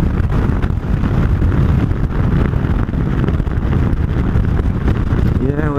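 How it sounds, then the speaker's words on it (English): Strong wind buffets the microphone in a loud, continuous roar of broadband rumble that barely lets up, with a rising engine-like whine near the end, ridden through outdoors on a vehicle. "Wind's powerful, man. It's blowing me around, man."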